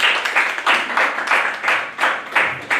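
Congregation at a church service clapping together in a steady, rhythmic beat of evenly spaced bursts, filling the room with sustained applause and no talking over it.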